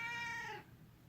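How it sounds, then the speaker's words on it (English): An angry pet cat lets out a single loud, drawn-out meow up close, fading out after about half a second into quiet room noise. "We have a cat. She is angry."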